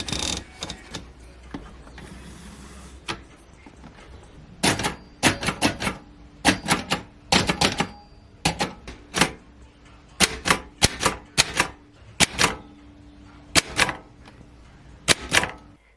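Typewriter keys clack in irregular bursts of sharp strikes, separated by short pauses, close and clear in a quiet indoor room.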